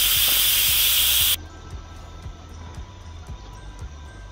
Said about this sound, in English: Let all the steam come out.